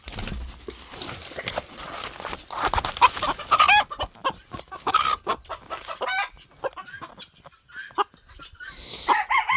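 Chickens, including a hen, cluck and squawk busily close by, with a rooster crowing partway through amid a noisy flurry of fowl calls.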